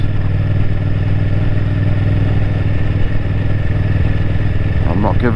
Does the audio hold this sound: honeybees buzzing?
no